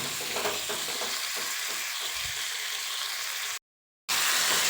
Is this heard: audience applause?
no